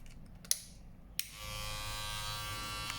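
American Barber Clipmaster cordless hair clippers with an attachment fitted: two clicks as they are handled, then a steady, close electric buzz that continues to the end.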